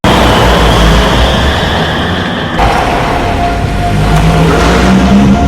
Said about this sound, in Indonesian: Di tengah perjalanan Kit pun bertemu dengan Jeff dan aksi kejar-kejaran pun dimulai.